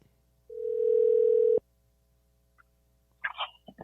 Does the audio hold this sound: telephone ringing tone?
yes